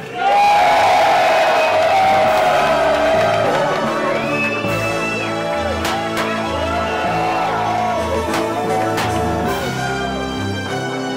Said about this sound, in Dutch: En geef ze een oorverdovend applaus